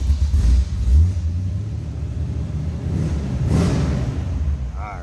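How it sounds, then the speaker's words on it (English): A 1932 Chevrolet Master Roadster street rod with an aftermarket cam idles low and rough, a loud, close, lumpy rumble that swells slightly once, with no talking over it. "A little low to that idle. Got a cam in her. What a hot rod should sound like."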